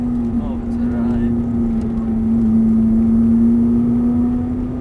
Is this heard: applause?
no